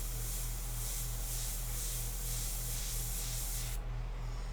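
Airbrush spraying India ink onto paper for a portrait painting, a steady close hiss running throughout with a constant low hum beneath, easing slightly near the end.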